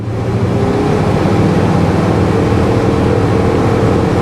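A 1974 Chevy El Camino with a 327 V8 running loud and steady right after cranking over, a dense rumbling engine roar that holds evenly throughout with no talk.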